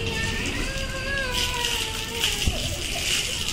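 Water from a hose pipe splashes and sloshes steadily on a rooftop during a summer bath, with children's voices and playful talk over the continuous spray.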